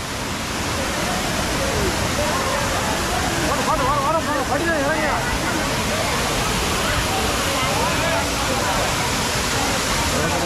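Kumbhavurutty Waterfalls in South India pours into a cave-like pool, making a loud, constant roaring rush throughout, while a person talks faintly beneath it.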